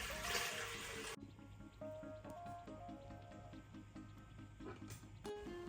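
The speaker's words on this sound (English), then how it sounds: "I'm going to put some water in the inner basket up until the steam mark" Water trickles and drips into a rice cooker's inner basket close by, starting with a brief splashy pour, then a quiet, steady patter of small drops.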